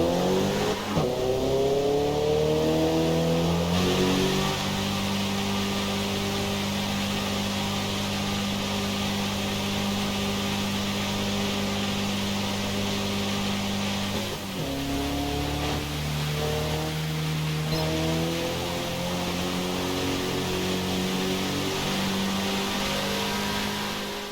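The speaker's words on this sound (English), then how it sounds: "Your car leaves the pits with the rain still falling." A race car in Forza Motorsport pulls out of the pits on fresh tires in the rain, its engine revving loudly through rising gear sweeps, dropping and climbing again mid-run over a steady hiss of rain and spray.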